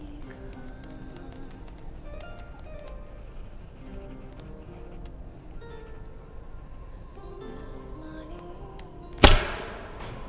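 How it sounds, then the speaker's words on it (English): At an archery hall, a Japanese kyudo bow looses an arrow. Near the end, one sharp, loud snap of release cuts through faint room ambience, then quickly fades. "We shoot holding 2 arrows"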